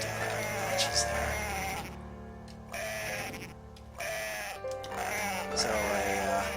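Cartoonish sheep bleats from the Dreamcast game Cool Herders repeat over game music, loud and close, with someone talking over parts of the stretch.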